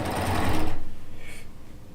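A sewing machine stitches rows of quilt pieces, a rapid close mechanical whir at first that then slows into a distinct rhythmic chugging of individual stitches before fading.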